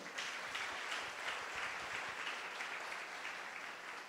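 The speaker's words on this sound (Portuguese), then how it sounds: "Você pode aplaudir ao Senhor?" A church congregation applauds during a sermon, with fairly soft, sustained clapping that holds a steady level for about four seconds, heard from a distance without speech.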